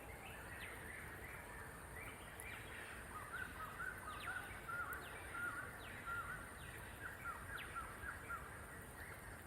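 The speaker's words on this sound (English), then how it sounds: "Hear the sound of the bird." Birds calling in Bukit Batok Nature Park, a former quarry: repeated short chirps and calls scattered across the clip, moderately distant over steady outdoor ambience with a hum of insects.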